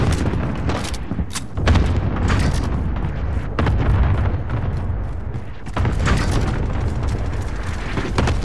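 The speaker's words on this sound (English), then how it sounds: "Enemy cluster strike in front of me." Enemy cluster strike explosions rumble in the Call of Duty: Modern Warfare video game: a rapid series of heavy booms and blasts rolls on continuously, with thick low rumble and sharp bursts layered over one another.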